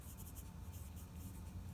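Pencil point working on paper: brief, close, fine scratchy strokes in a quick pulsing rhythm, heard alone.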